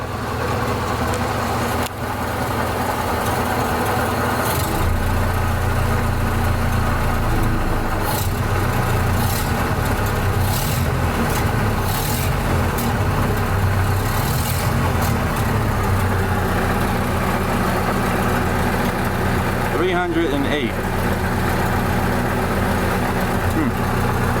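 The engine of a 1930 Ford Model A pickup, off the road since 1986, runs steadily close by and is given a little gas. It makes a continuous low rumble with faint mechanical noise on top.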